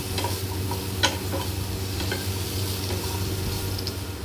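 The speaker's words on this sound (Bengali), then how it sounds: "এগুলো দিয়ে হালকা করে শ্যালো ফ্রাই করে নেব পনির মশলাটা বানানোর জন্য" Onion, ginger and garlic shallow frying in butter for paneer masala, a steady close sizzle over a low hum, with a few light clicks of a utensil against the pan.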